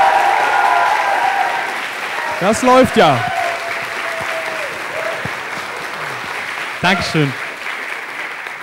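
Audience applause at a science slam, a broad wash of clapping from a seated crowd that swells and fades, with someone speaking briefly over it.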